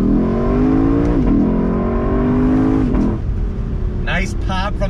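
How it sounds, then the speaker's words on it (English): A 2021 Lexus LC500 convertible engine revs hard through rising gears from a standstill, with brief dips at shifts and an exhaust pop, then easing off as a voice speaks over it. "Nice pop from the exhaust."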